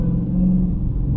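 A Dodge Challenger Hellcat Redeye Widebody on the move gives off a low, steady engine drone from inside the cabin, a deep continuous rumble with no talking over it.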